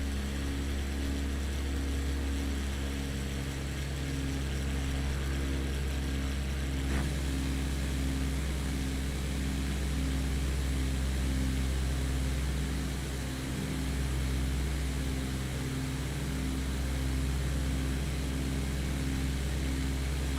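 Small propeller plane in Microsoft Flight Simulator 2020, flying near Fort William, Scotland, gives a steady droning engine hum with a pulsing propeller tone throughout, continuous and even in loudness, with no talking.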